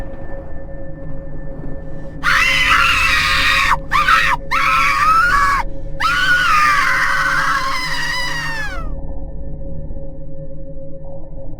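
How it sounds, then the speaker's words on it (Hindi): Loud, piercing scream of a ghost girl's spirit in an animated Hindi horror story, several long wailing bursts with brief breaks that fade out over a low droning background. "जोर से चिल्लाई"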